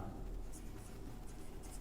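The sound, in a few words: writing on a board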